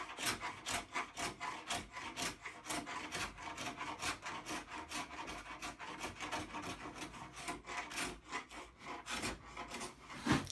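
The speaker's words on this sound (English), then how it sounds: "So I'll continue stripping the table and keep an eye on these." Old finish is scraped off a wooden farmhouse table in quick repeated rasping strokes, soft and close, in a steady rhythm with no talk.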